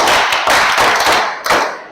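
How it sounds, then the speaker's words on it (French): Children clapping together during an evening storytelling session, a dense burst of applause that holds steady for a moment and then swells again near the end. "Applaudissez encore pour vous-même."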